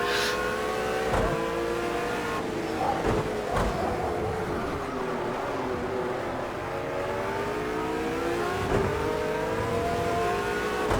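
A racing video game car engine revs steadily and loudly throughout, pitch rising and falling with gear changes while chasing a Ferrari on track, with occasional tire noise.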